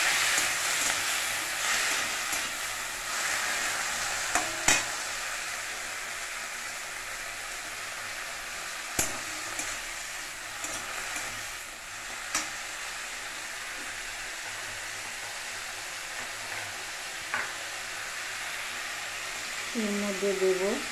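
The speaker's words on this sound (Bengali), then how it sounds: "এবার আমি এই কাঁচা টমেটোটা দিয়ে দিচ্ছি পেঁয়াজের উপরে, দিয়ে মারতে থাকবো।" Raw tomato goes onto frying onions in a pan, a steady soft sizzle running throughout with occasional sharp clacks of a spoon stirring, while a person talks over it.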